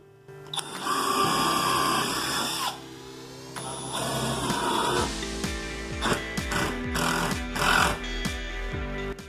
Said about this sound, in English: I still got to drill them so it goes through the stile